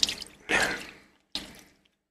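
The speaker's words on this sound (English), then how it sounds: "I'm going to basically pour isopropanol alcohol into it" Isopropanol alcohol pours into a sealed tub in short, splashy bursts, one long gush followed by a briefer second pour, close and fairly loud in a quiet room.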